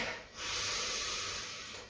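A single deep, slow inhalation, close and breathy, swelling and then tapering off.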